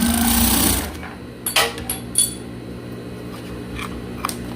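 A sewing machine runs loudly and steadily while stitching fabric for a children's underwear set, then drops to a quieter hum broken by a few short clicks and knocks from handling the fabric.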